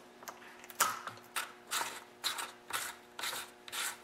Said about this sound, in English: At this point, I'm going to reinstall the bar and chain.